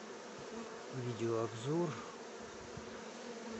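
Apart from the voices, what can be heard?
bees flying at apiary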